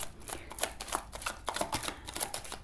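Tarot cards are shuffled in a quick run of crisp riffling flicks and soft slaps, close and fairly loud, with no talking.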